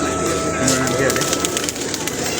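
Pigeons coo softly in a brief low call, set against steady outdoor background noise and faint voices.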